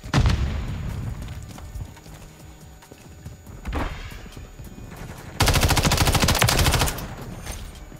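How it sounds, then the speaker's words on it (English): Grenade blasts and gunfire in Modern Warfare 3 come as loud booms and sustained automatic bursts, with a dense, heavy volley near the end over a constant battlefield rumble. "Throwing grenade!"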